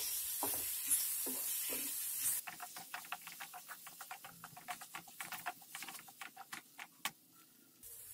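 An egg curry with green chilies and black pepper is stirred in a pan, giving a string of quick, close scraping clicks and taps after a softer sizzling start, with no voices.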